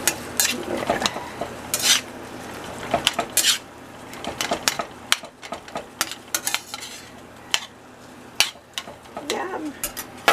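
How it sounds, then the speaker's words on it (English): Eggs cooking in a hot skillet with nopales and corn tortillas, a soft sizzle beneath frequent metallic clinks and scrapes of a utensil against the pan, close and irregular. "So I just put a couple eggs in there."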